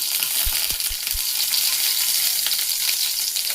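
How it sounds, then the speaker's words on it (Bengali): A dried red chilli hits a couple of spoonfuls of hot oil, giving a steady, close, dense sizzle that runs without pause, with a few soft low knocks near the start. "দেড় দু চামচ মতো তেল দিয়েছি দেব একটা শুকনো লঙ্কা মাঝখানে ছাপিয়ে"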